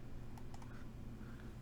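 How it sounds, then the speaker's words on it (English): Keys being tested on a freshly built 60% Fjell mechanical keyboard: a brief, close scatter of a few sharp clicks over a steady low hum. "I'm just going to test some of the keys"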